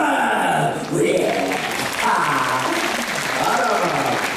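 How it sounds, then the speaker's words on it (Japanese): Applause from a theme park audience at Universal Studios Japan's monster rock-and-roll live show, running beneath a costumed performer's amplified talking, which dominates throughout. "大きな拍手ありがとうございます"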